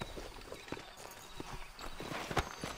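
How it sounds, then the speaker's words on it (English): A horse's hooves clip-clop at a walk in the Western video game Red Dead Redemption, a faint series of irregular thuds and clacks with other low game sounds, no talk. "a horse is right there too"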